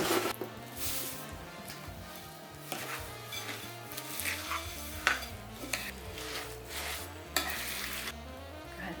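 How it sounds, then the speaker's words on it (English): Three cups of oats being stirred into a wet batter mixture in a bowl, with repeated soft scraping and thudding strokes at an uneven rhythm, close and fairly quiet, with nobody speaking. "So just adding 3 cups of oats to the wet mixture and then going to mix it up."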